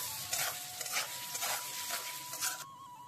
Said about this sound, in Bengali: আবার নেড়ে চেড়ে নেব।